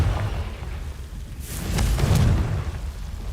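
A Confringo explosion spell cast in Hogwarts Legacy, a swooshing burst that builds into a deep, rumbling boom, loud and close, then fades slowly.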